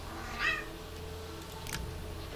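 A cat gives one short, rising-and-falling meow near the start. It is fairly close and clear over a steady low background hum, and a brief faint click follows later.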